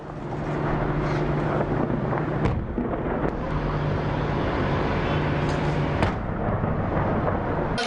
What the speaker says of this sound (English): That's the bombing.